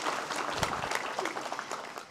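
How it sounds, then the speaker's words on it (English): Crowd clapping at an event in a hall, a brief burst of dense applause from an audience with a few louder individual claps, steady and moderately loud. "Would you please give Amegy a round of applause,"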